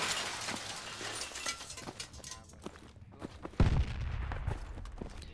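Gunfire crackles in the Project Reality military shooter. There are scattered distant shots and sharp cracks, footsteps shuffle, and a louder close burst lands midway through over a low rumbling background.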